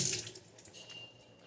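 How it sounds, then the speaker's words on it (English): Tap water pours briefly into a pot of beans being cooked, a close hissing splash that fades to a softer trickle within a second and a half. "Some more water on there."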